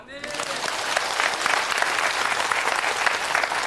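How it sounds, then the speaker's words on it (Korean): A church congregation at a revival service breaks into sustained, lively applause that swells quickly after a voice at the start and stays full and steady. "박수!"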